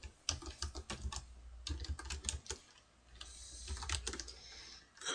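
Someone types a username on a computer keyboard, producing soft, quick key clatter in uneven bursts with short pauses, close by and quiet.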